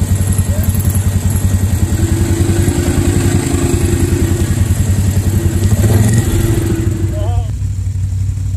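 An off-road vehicle engine chugs steadily while riding dirt trails at Sugar Creek, a loud, close, continuous mid-pitched drone with clattering over it and people talking above the noise.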